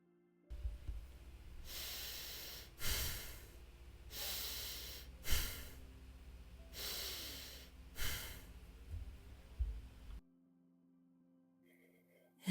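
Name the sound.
rapid forceful exhaling through the nose, breathing exercise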